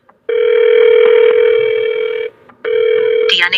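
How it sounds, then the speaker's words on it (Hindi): A telephone tone plays within an audio drama as a call is placed, two loud steady electronic tones separated by a brief gap, then a short higher chirp at the end. "फिर टिया को कॉल किया।"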